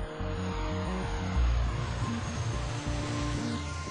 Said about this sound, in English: C-130J Super Hercules. The most advanced tactical transport aircraft in the world.